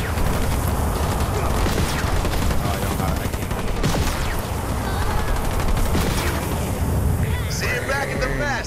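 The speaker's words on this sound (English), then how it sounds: "I'm receiving fire from enemy ground troops" Enemy ground troops in Halo Wars 2 trade constant gunfire, a dense, loud fusillade of overlapping rapid bursts and booms that never lets up, with voices speaking over the battle.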